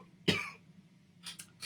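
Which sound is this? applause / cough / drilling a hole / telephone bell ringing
cough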